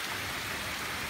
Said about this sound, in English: This looks like one of the heaviest bands of rain so far this morning.